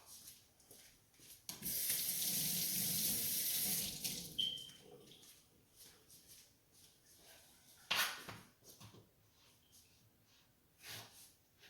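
A kitchen tap runs into a sink while collard greens are rinsed, a loud steady stream for about two and a half seconds, followed by softer splashes and handling noises.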